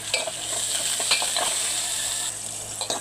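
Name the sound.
onions frying in a pan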